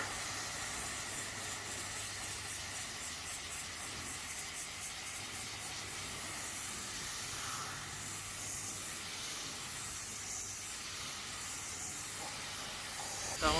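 A pressure washer rinses car floor mats, giving a steady, close hiss of spraying water that runs unbroken throughout, with no voices.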